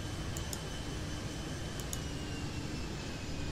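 Steady jet aircraft engine roar on a runway in the airport game Airport Madness 3D at Toronto, a continuous loud wash with a couple of faint brief high clicks.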